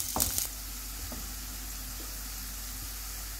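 Onions hit hot oil for a moong dal tarka with a brief sharp crackle, then settle into a steady, even sizzle that fills the rest of the moment without voices.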